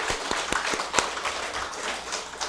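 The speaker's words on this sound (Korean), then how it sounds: "앞으로 예배에 잘 참석하라고 격려의 박수 한번" A church congregation claps during a Sunday service to encourage the children, a short burst of scattered hand claps with a few sharp, distinct slaps standing out at moderate volume, with no talking.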